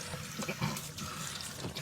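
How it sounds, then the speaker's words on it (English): Water spills from a bathroom sink in a cabin and runs over the vanity, a steady, close splashing and trickling that fills the whole short stretch without talk. "I also love how the water spills out onto the vanity"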